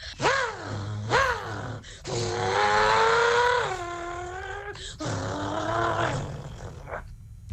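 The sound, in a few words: child imitating a racing car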